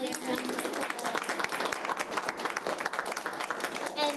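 A room of attendees at a launch party claps for a speaker, a dense, lively patter of many hands with voices mixed in, holding steady throughout.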